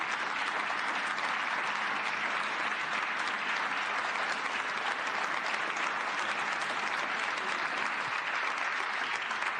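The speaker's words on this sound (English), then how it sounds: "I'm getting the applause before she finishes the sentence" Steady, dense audience applause fills a conference hall after a speech at the Munich Security Conference, even and sustained throughout at moderate loudness with no breaks.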